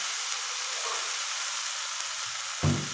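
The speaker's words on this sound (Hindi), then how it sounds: "दाल को 1 से 2 मिनट तक मसाले के साथ अच्छे से फ्राई कर लेंगे।" Lentils fry with cooked masala in a pan, making a continuous hissing sizzle up close, with a brief louder scrape or stir near the end and no talk.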